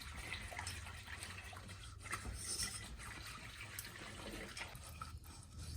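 Milk poured into a roux for biscuit gravy, a soft steady liquid trickle and stir close by, quiet and continuous with no talking.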